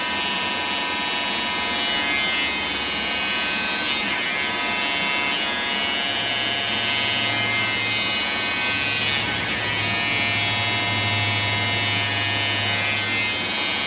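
Electric hair clippers buzz continuously and closely as a student barber cuts and fades hair at a barber school, with a steady motor hum whose pitch and load shift as the blade works through the hair.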